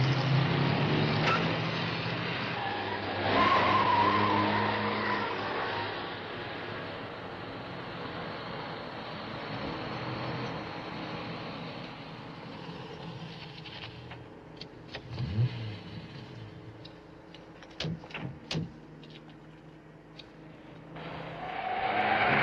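A car in a 1970s film drives past steadily under a constant wash of road and engine noise, with a few brief tire squeals and clunks near the end.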